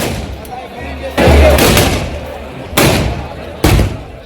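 Loud festival firecracker or gun blasts boom at a village celebration, with three or four sharp heavy bangs spaced irregularly over a crowded outdoor background, close and punchy.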